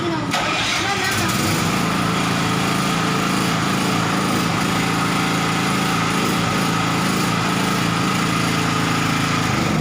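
A remote-started portable generator engine runs steadily and loudly throughout, with a constant buzzing drone and no pauses.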